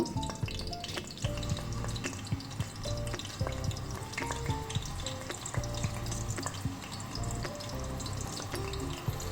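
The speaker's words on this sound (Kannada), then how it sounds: "ಎಣ್ಣೆ ಕಾದಾದಮೇಲೆ ಒಂದೊಂದೇ ಉಂಡೆ ಅದಕ್ಕೆ ಹಾಕ್ಕೊಳ್ಳೋದು." Mutton keema balls dropped one by one into hot oil in a pan for a Maratha-style gravy, frying with a steady, moderate sizzle that runs throughout beneath a layer of background music.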